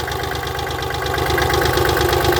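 A Kubota L3408 tractor's diesel engine idles steadily with a rapid, even knocking pulse, close and loud, holding constant throughout with no talk.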